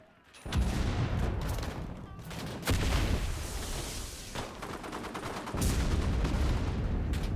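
Rapid submachine-gun bursts in the World War II shooter Enlisted, loud and close, coming in long stretches of sustained fire with short breaks between them and no voices.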